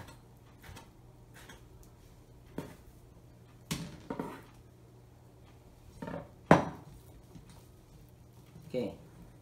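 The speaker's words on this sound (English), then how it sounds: "Now we're just going to julienne it." A knife julienning vegetables on a cutting board taps out sparse, quiet chops at irregular intervals, each a short woody knock, while a person talks nearby in a kitchen.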